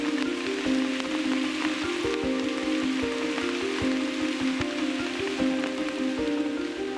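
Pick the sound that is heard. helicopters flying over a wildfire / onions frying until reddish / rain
rain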